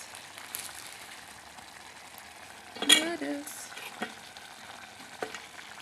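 Indomie noodles go into a hot pan and are stirred, giving a steady low sizzle with a louder burst of clatter and frying as they hit the pan, then scattered scraping stirs.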